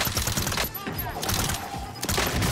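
Rapid hipfire bursts from an Uzi submachine gun in the Warzone video game, dense crackling automatic shots running nearly continuously and loud, with a few short breaks between bursts.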